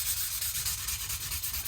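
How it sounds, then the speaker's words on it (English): Sheet of 600 grit sandpaper rubbed by hand along the fret edge of a left-handed Fender MIM Telecaster neck, a steady close back-and-forth sanding rasp with a quick regular stroke rhythm and no talk. "we can get a bit of 600 grit, for example. Just run it across the top here so we get rid of the marks"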